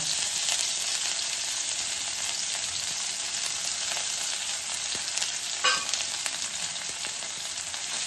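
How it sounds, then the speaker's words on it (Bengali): Dried chilli and crushed ginger frying in hot mustard oil, a steady, close, hissing sizzle with no talk and one brief clink of a utensil partway through. "একটু ভাজা ভাজা হলে আমি দিয়ে দেবো থেতো করা আদা।"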